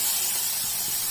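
Vegetables sautéing in a hot pan give a steady, even hiss with no breaks, brief and close.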